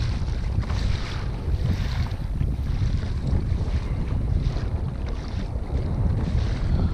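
Strong wind buffets the microphone during kayak fishing on open water near Thomas Point, a constant loud low roar with faint water wash beneath and no talking.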